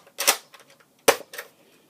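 Nerf blaster magazine released with a sharp plastic click and clack, then a second louder click and rattle as it drops out, close by with no voices.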